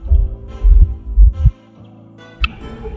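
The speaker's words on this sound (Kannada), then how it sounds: "ಲಾಂಚ್ ಸ್ಟಾರ್ಟ್ ಆಯಿತು ಹೊರಡೋದಕ್ಕೆ." A motor launch boat's engine starts up at Honnavara, India, with a few heavy low thumps and chugs, then a steady droning hum and a final thump, close and loud.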